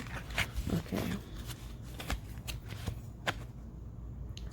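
A deck of cards is shuffled close up in a few quick riffling bursts, with brief soft taps and pauses between them and no talking.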